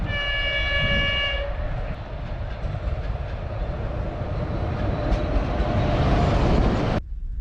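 A passenger train from Cherkasy to Ivano-Frankivsk rolls along steadily with a continuous low rumble, opening with a brief multi-tone horn blast before the steady noise runs to an abrupt cut.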